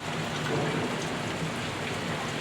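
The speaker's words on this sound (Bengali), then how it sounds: "অনেক বৃষ্টি হইতেছে।" Heavy morning rain in Dhaka pours down in a steady, close, full hiss of drops hitting surfaces, constant from start to end with no voices.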